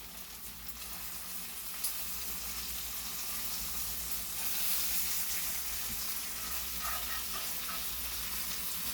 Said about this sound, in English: bacon's cooking